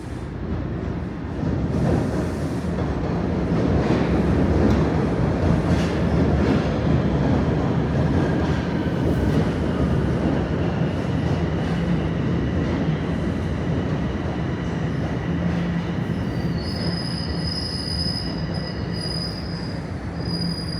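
Toronto TTC subway train in an underground station, steel wheels squealing loudly and continuously over a heavy rumble, with high-pitched screeches rising near the end.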